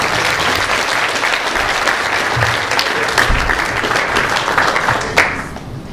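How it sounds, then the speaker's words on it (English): An audience gives loud, sustained applause as a poet walks to the stage, a thick continuous roar of clapping with a sharper burst near the end and no one speaking over it. "Let's give her a round of applause."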